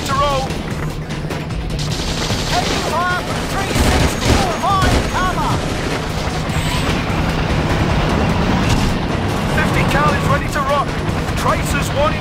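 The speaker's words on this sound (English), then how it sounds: "Heavy fire from 360, full of incoming!" Heavy gunfire rattles from all directions in the Battlefield 2 Modern Combat campaign, dense continuous bursts and repeated shots over a rumbling background, with voices shouting throughout.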